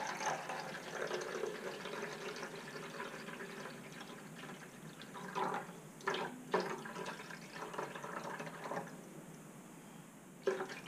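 Grocery store distilled water pours steadily into a Spin Clean record washer, a continuous close trickle and fill that briefly falters with a few gurgles and splashes before tapering off.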